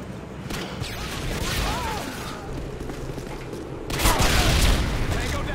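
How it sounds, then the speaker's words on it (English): Predator missile strike in a first-person shooter game, a broad boom and rumbling blast rising near the end after a stretch of steady battlefield noise, with game radio voice chatter underneath. "Friendly Predator missile incoming."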